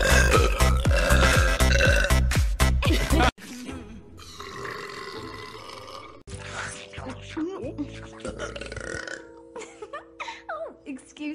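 Cartoon female burps from an animated compilation, a loud rough belch rising over music at first, then a few grunting, gassy eruptions and brief voices alone in a quieter stretch.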